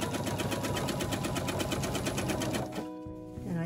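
A sewing machine runs steadily, stitching binding onto a quilt with a 3/8 inch seam, its fast needle rhythm continuous and close for nearly three seconds before slowing and stopping.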